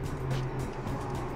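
A car pulling out of a parking spot on a street in São José dos Pinhais, heard as a low, moderately quiet engine hum with a steady rumble, partly masked by background street noise.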